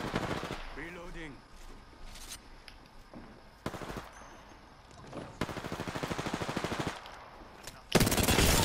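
Apex Legends gunfire cracks out in several separate bursts, with one longer rapid automatic stretch and a loud volley at the end, while a voice speaks near the start.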